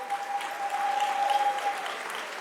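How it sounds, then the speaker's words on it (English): An audience at a city council Black History Month celebration applauds for Black joy, a soft, even patter of clapping from across the room with a faint steady tone humming beneath it. "So let's have a round of applause for Black joy."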